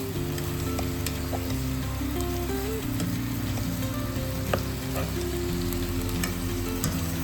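Chicken and vegetables stir-frying in a pan, a constant close sizzle with light scraping and clinks of stirring over a low cooking hum.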